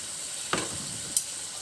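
Paneer masala with cashew paste being stirred in a frying pan, a steady soft sizzle with two brief scraping clinks of the spoon against the pan.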